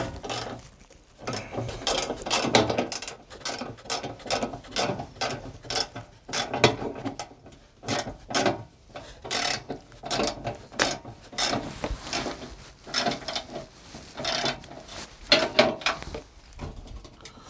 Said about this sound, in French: je vais tirer un peu sur le pare-choc pour passer ma douille de 13